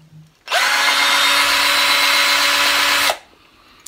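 A cordless power drill whirs at a steady high pitch for about two and a half seconds, starting and stopping abruptly, loud and close.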